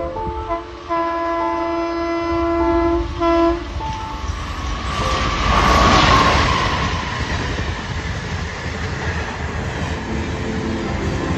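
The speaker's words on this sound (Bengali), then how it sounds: "ট্রেনের গতিটা তোমরা একবার দেখো যে ট্রেনটা কী গতিতে আসছে" An Indian Railways train approaches at speed, opening with a sustained multi-tone horn blast, then swelling into a loud, close rush and rumble of wheels and wagons that keeps roaring as it passes.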